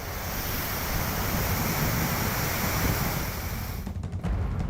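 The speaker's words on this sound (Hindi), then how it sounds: "पानी देखिए ऐसा बहता दिख रहा है मानो वहां कोई झरना बह रहा हो।" Floodwater rushing through streets after heavy rain in Maharashtra, a loud, steady roar of churning water like a waterfall, continuous and dense, with a gusty wind-like edge toward the end.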